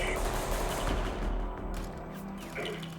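Rapid video game gunfire in Ultra Nightmare mode, a dense stream of quick shots and crashing impacts layered over a busy, noisy game soundscape.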